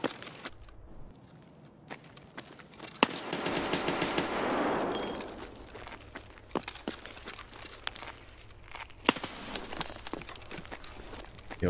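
Gunfire in the video game Escape from Tarkov, a burst of sharp shots and rattling clicks over a low ambient hum, with a louder rushing swell in the middle and scattered single cracks afterward.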